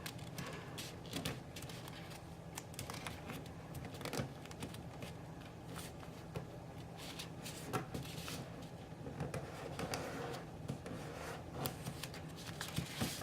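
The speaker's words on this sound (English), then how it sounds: "fold it again to the top" Origami paper being folded into a flower, giving a steady run of close, crisp crinkling and rubbing with sharp creasing snaps throughout, no voices.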